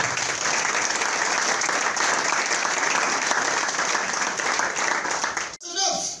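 A church congregation applauding during a sermon, dense sustained clapping from a large crowd, loud and even for several seconds before cutting off abruptly, with voices mixed in.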